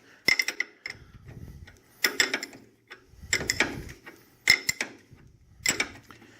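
A wrench working a bolt on a Polaris Sportsman 500 quad during a front coil spring replacement, with sharp ratcheting clicks and turns in several bursts separated by short pauses, close with no talking.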